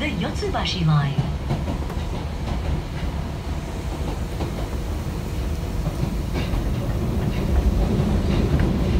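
An Osaka Metro Midosuji Line subway train runs between Honmachi and Tennoji with a steady clickety-clack of wheels on rails and a low rumble, while a recorded onboard announcement plays over it.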